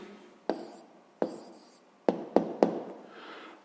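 Pen strokes on paper while a sixth-grade math answer is written down, a handful of short scratchy marks and taps spaced irregularly, close and fairly quiet.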